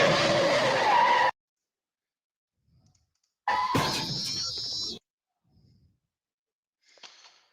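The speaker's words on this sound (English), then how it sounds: "the TTTS road brake sound effect here from the Clearwater Features era" A Thomas the Tank Engine road brake sound effect from the Clearwater Features era, two loud screeching skids roughly two seconds apart, each followed by faint trailing rattles and a thin high squeak at the end.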